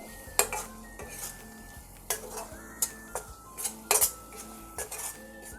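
A spoon scrapes and clinks against a pan as turmeric, coriander powder and Koli masala are stirred together for spicy misal, giving irregular metallic taps over a low, soft sizzle.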